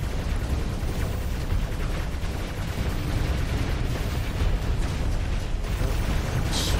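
Ship weapons and explosions from a space battle in the video game Starsector, a dense, continuous barrage of booms and bursts that stays loud throughout, with no voice over it.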